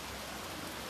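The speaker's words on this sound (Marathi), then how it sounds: "काही कसला बेकार पाऊस आहे." Heavy monsoon rain pours as a steady, faint, even wash of noise over one second, with no voices.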